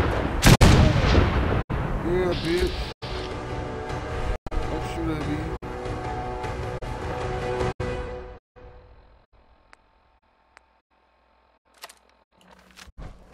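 Heavy gunfire in the video game Fallout 4, a rapid string of loud, booming shots for about eight seconds, then near silence with a few faint later sounds; a voice talks over the shooting.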